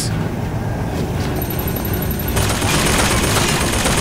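A gun turret in Bioshock Infinite fires sustained rapid bursts, loud and dense, over a constant roar of battle noise that grows heavier partway through.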